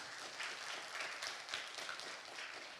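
A church congregation claps during a Wednesday worship service, a steady wash of hand claps spread across the room at moderate level, continuous for the whole stretch with no voices standing out.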